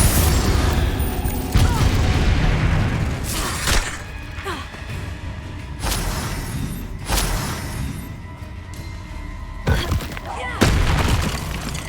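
Spell blasts in Hogwarts Legacy crack out as a series of loud booming impacts and crashes, several heavy bursts spread through a dense game soundscape with a voice calling out incantations.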